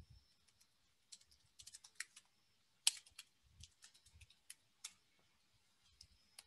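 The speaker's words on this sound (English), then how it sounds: "I'm typing this" A computer keyboard is typed on in short irregular bursts, faint close clicks and taps scattered across a quiet room with no voices.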